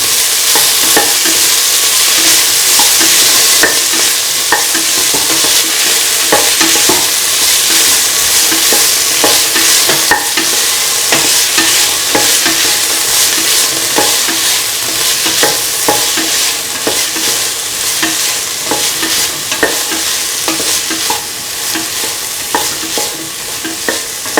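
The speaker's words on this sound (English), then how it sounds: "Salt and mix tomatoes and green chili together with the rest of the mixture." Tomatoes and green chili are stirred into a sizzling beef mixture for a tomato and coconut milk stew, giving a loud, steady fry hiss broken by frequent spoon scrapes and clicks.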